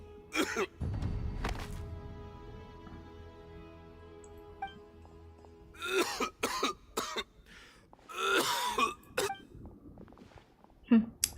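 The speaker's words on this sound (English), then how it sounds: "Why is he coughing so much?" A man in the game Genshin Impact coughs repeatedly in short, harsh bursts over quiet background music, with a few rough throat sounds between the fits.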